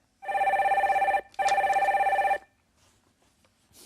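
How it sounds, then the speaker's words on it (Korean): A telephone rings in two long electronic bursts with a short gap between them as a call is put through on a Korean broadcast, loud and close, followed by quiet. "전화 연결해 주세요"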